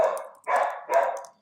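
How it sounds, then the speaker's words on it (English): A dog barks three times in quick succession, loud and close, each bark full and slightly drawn out, with no voices alongside. "Sorry about the dog."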